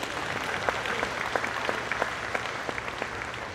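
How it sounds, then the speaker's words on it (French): A crowd at a Red and White Holstein dairy cattle show in a fair arena claps for the exhibitors. The applause is moderate and somewhat distant, with a few sharper individual claps standing out from the even patter. "donnez-leur une bonne main d'applaudissement pour ce matin."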